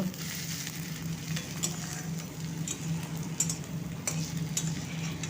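An egg fries in a small amount of oil in a pan, with a steady close sizzle and crackle broken by light ticking pops.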